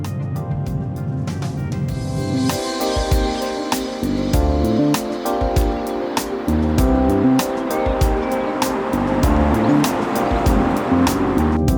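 A BMW 840i Convertible cruising at about 25 mph as its roof raises, a steady engine and road drone with wind rush and whirring, clicking roof mechanism tones running through, loud and continuous.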